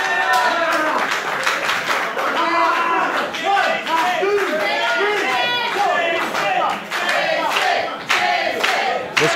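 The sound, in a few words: wrestling crowd cheering for Jason Divine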